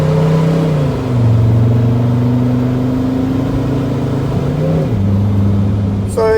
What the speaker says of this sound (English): Now I'm gonna try to accelerate really fast from the start.